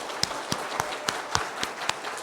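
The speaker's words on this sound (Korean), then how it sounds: "우리 박수로 힘있게 격려해 주시면 좋겠습니다" Scattered, separate claps in a church during a Sunday morning service, as the congregation encourages its standing teachers. Single claps come every quarter second or so, sharp and fairly close, with no steady roar of a full crowd.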